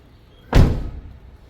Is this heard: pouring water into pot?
no